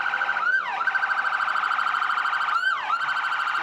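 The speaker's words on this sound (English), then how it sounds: "And their sirens work." A loud, steady electronic siren on a Cleveland Fire Assistant Chief vehicle in a St. Patrick's Day parade wails, dipping in pitch twice in quick yelping sweeps before resuming its continuous tone.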